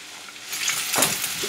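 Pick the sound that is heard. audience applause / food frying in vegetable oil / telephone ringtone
food frying in vegetable oil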